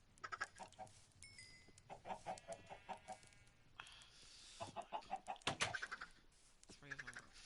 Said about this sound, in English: There's too many chickens.